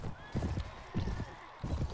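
Horses in a medieval battle in the Floris video game, with three bursts of thudding hooves and whinnies coming at a steady pace against a dull background rumble.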